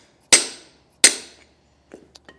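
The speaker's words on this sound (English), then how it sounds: "You could also use a piece of wood or just something flat that you can hammer this down with." Two sharp hammer strikes, about 0.7 seconds apart, tap a part flush against the back end of a hole saw while fitting a Hydrastar electric-over-hydraulic actuator on a 2018 Keystone camper. Each loud crack rings off briefly, followed by a few faint clinks of handling.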